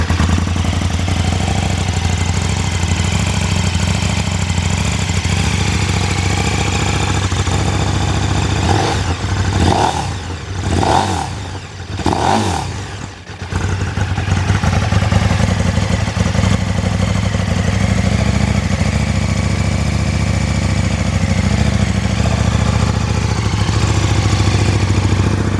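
A 2017 KTM 1290 Super Duke R starts up close by and settles into a loud, steady idle, with a few quick throttle blips rising and falling partway through before the idle continues.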